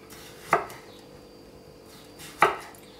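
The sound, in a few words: knife chopping zucchini into thin slices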